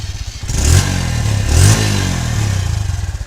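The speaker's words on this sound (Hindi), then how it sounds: "और मैं आपको इस बाइक की आवाज़ सुना देता हूँ।" A TVS Star City Plus 110cc motorcycle engine runs close up with a steady low thrum, rising in two brief revs before settling back to a smooth, even idle with no talk.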